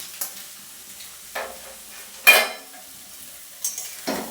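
Cashews and raisins are stirred into fried egg and onion in a pan, a faint sizzle beneath four or five separate scrapes and clinks of a utensil, spaced apart and close, with no one speaking.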